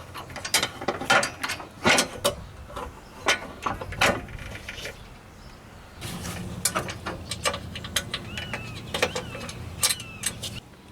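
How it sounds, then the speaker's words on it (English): Metal clicks, clanks and ratchet-like snaps come in irregular bursts, close at hand, as the PTO cable and its retaining pin are refitted on a Cub Cadet XT1 Enduro riding mower's deck. "Now I'm going to reattach the PTO cable and pin that holds it in place."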